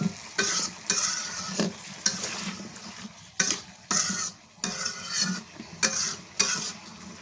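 Taro stolons and dried shrimp sauté in a pan with a little water, stirred in repeated scraping strokes over a steady close sizzle, each stir coming as a sharp burst every second or so.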